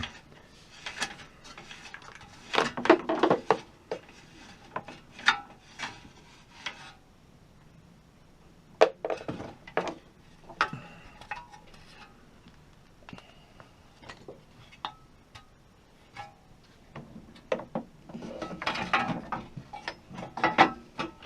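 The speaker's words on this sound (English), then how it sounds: "Now simply wind the cord back up." Pull cord being wound back into the recoil starter of a Briggs & Stratton lawn mower, giving scattered ratcheting clicks and mechanical rattles in irregular bursts, close and fairly quiet, with pauses between.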